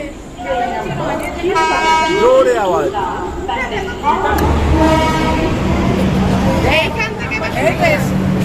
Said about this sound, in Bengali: ওই দেখো আমাদের ট্রেন আসছে সামনে